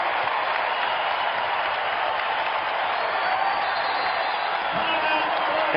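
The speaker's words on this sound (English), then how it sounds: "this crowd is explosive tonight here at the Devaney Sports Center." A volleyball crowd at an NCAA women's tournament match in an arena cheers and applauds loudly and continuously, forming a dense, roaring wall of sound throughout.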